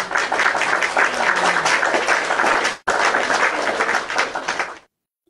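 A crowd's sustained applause rolls on steadily, dense and close, breaks off for an instant, resumes at similar strength, then tapers and stops abruptly.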